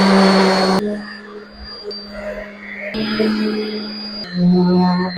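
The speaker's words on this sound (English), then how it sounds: "Sand it." A power sander works over a wooden pizza cutting board with a rounded-over edge, giving a steady close whirring drone with a low hum that shifts in pitch and loudness as the pressure changes, with no talking.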